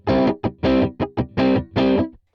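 A Stratocaster electric guitar played through a Vox AC30 amp strikes rhythmic distorted chords, six close strums in a choppy alternating long-short pattern before stopping abruptly, dry with no reverb.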